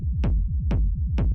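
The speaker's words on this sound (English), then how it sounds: "The first thing is this EQ8, which just sounds like this." Techno rumble bass shaped by an EQ Eight: a dense, droning low-end rumble pulsing in a steady rhythm, with three bright, short kick-like hits spaced evenly across the loop, loud and alone.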